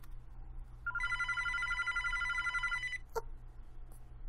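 A telephone rings in a mansion in the video game Dreaming Witch. One bright electronic ringing burst lasts about two seconds over a low ambient drone, followed by a couple of brief clicks.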